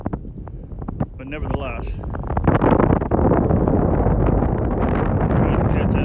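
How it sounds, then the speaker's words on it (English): Wind gusts build into a loud, steady roar of microphone buffeting over a lake where anglers in boats fish for walleye on a chilly April day, with a brief spoken phrase near the start. "It's starting to get a little chilly and a little windy"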